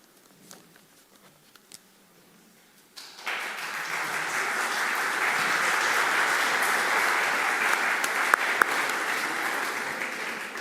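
After a few quiet seconds, a crowd at an ecology conference bursts into sustained applause that swells and holds steady, with scattered louder claps.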